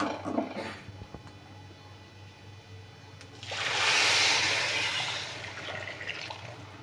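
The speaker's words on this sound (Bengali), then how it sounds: "এর মধ্যে আমি গরম জলটা দিয়ে দেবো" Hot water is poured into a pan of lightly fried spices for prawn polao, a loud rushing hiss swelling about halfway through and fading over a few seconds after quieter kitchen clatter.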